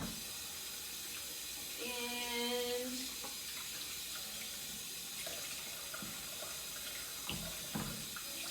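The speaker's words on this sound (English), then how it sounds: "I'm going to quick wash my hands here" Steady running water from a kitchen sink tap streams close by as hands are washed, a constant hiss broken by a brief splashy swell and small knocks.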